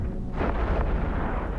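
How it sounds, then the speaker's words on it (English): Ship weapons fire in the EVE Echoes space game during PvP combat against a Machariel, heard as heavy booming blasts that blur into a dense continuous rumble. The barrage is loud and low, with no talk over it. "now they are shooting at me"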